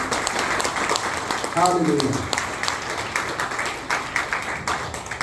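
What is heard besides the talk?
congregation applauding at worship service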